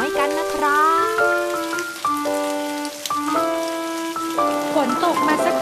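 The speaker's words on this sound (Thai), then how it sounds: "ฝนตกมาสักพักใหญ่แล้วนะแกนฉันกลัวจัง" Steady rain patters down throughout, partly masked by a bright, melodic run of tuned musical tones layered on top.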